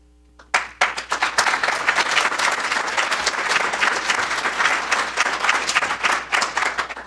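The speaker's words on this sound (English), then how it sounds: "I got the applause" Audience applause for a speaker at a technology talk bursts in after a brief quiet, then holds as a thick, sustained patter of many clapping hands.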